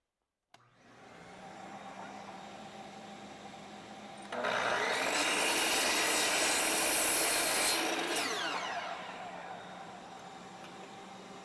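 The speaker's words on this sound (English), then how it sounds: "So we'll just go over to the miter saw, and we'll do both at the same time" A miter saw spins up and cuts through cedar at a 15-degree angle: a steady motor whine, then a loud, bright, rasping cut lasting a few seconds before the blade winds down.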